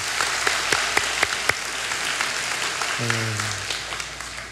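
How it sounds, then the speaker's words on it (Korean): A congregation applauds during a Korean church Sunday worship service in Seattle, steady broadband clapping filling the room for several seconds, with a brief low organ-like tone rising underneath near the end. "우리 하나님 앞에 영광의 박수 한번 올려드리겠습니다."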